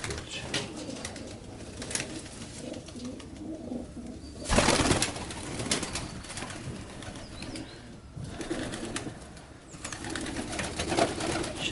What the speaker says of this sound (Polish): Młody gołąb.